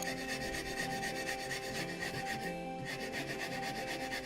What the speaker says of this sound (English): getting it sanded down nice so that it's nice and square